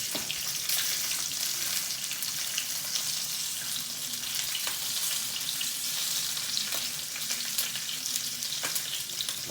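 Lamb shanks searing in hot oil after seasoning with salt and pepper, a loud steady sizzle and crackle that fills the whole stretch without any voices.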